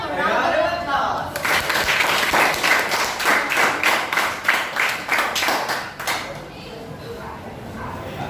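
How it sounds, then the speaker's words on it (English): Applause from an audience, a steady burst of many hands clapping, with chatter beneath it that fades out near the end. "Let us give them a round of applause."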